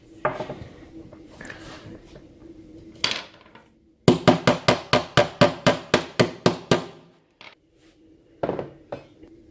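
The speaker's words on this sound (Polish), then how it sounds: "mamy młotek i elegancko nam przechodzi" A hammer strikes wooden birch bed frame parts during assembly, first in a few scattered knocks, then a rapid run of about a dozen loud, close, evenly spaced blows, followed by a pause and a couple more hits.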